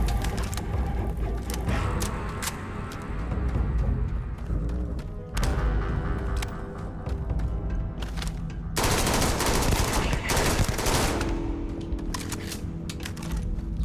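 Rapid automatic gunfire from the video game Starfield, long bursts of fast shots rattling loudly and almost continuously, with brief pauses between volleys.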